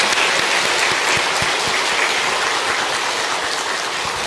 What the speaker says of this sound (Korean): 하나님께 찬송과 감사와 영광의 박수 한번 올려드리겠습니다